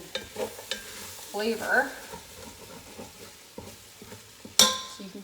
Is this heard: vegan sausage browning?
yes